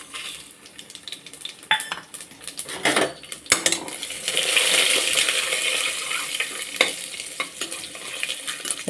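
Whole spices fry in hot ghee for khichdi while a spoon stirs and scrapes the pan, giving steady close sizzling broken by sharp metallic clinks and scrapes.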